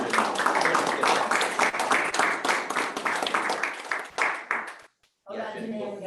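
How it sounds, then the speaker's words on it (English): An audience at a Milwaukee Rotary Club gathering breaks into warm, dense applause that carries on for several seconds, stops briefly, then gives way to a speaker's voice. "let's give a warm round of applause and welcome."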